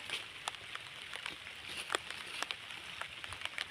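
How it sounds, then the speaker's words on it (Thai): Rain falls outdoors during red ant egg foraging in the countryside, a faint patter of scattered drops and small ticks over a soft hiss, with no voices. "ฝนก็มาวันนี้นะฝนตกแล้ว"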